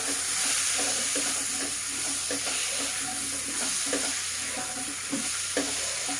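Potatoes with salt and turmeric frying in a karai, stirred steadily, give a continuous close sizzle with repeated scraping stirs throughout, no talk.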